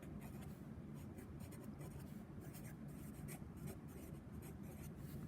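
Marker or chalk scratching across a board while a precalculus problem is worked out, faint continuous strokes in a quiet room with low background hum.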